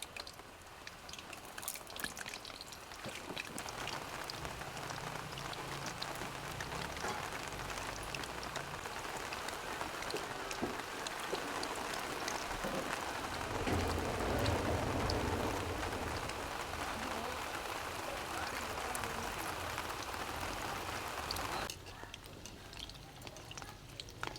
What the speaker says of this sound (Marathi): पाऊस यायला सुरुवात झाली आहे